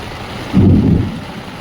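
Deep rumbling thunder rolls in outside a tent during heavy rain on a cycle trip, swelling suddenly and loudly then fading slowly over a steady wash of rainfall.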